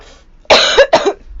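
A girl coughs twice in quick succession, close and loud, each cough a harsh burst with a short pause between, against a quiet room.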